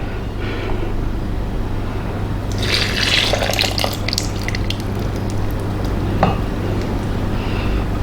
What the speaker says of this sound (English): Now I'm going to add the melted butter and then 3 eggs.